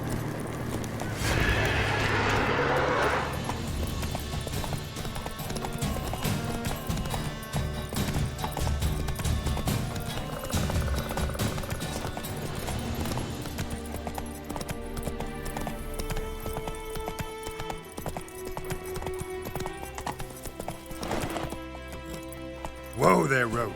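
Geralt's horse Roach in The Witcher 3 gallops with rhythmic clip-clop hoofbeats, neighs and whinnies, while in-game music and voices play over it for a long stretch.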